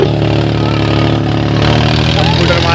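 Massey Ferguson 7250 tractor working with a 7-foot desi land leveller, its diesel engine holding a steady, loud low drone throughout with no spoken words.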